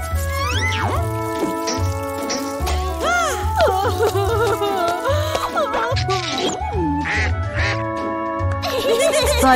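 A cartoon duck quacks several times in a lively children's cartoon, the quacks sounding voiced like an imitation over busy background music.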